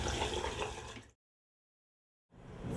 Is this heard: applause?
no